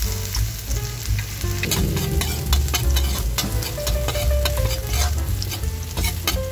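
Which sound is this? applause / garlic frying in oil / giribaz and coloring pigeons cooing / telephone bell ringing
garlic frying in oil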